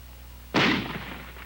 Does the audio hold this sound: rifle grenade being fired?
yes